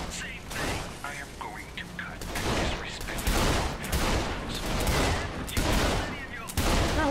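Rapid gunfire in Saints Row: The Third crackles through repeated bursts and single sharp shots, loud and close, while someone talks and shouts over the shooting.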